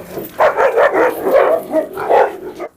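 Several Cane Corso dogs bark, yelp and snarl close by in an ongoing scuffle, a dense run of overlapping barks and growls with brief whimpers.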